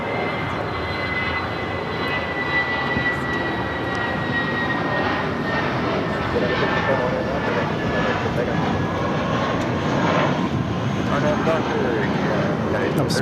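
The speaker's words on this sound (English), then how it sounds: "That was Spirit Airlines flight 520 headed to Detroit." A Spirit Airlines Airbus A320 jet departing LAX roars steadily at a distance for several seconds, with a high engine whine above a broad rumble, while a voice talks over it.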